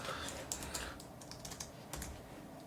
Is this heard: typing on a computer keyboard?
yes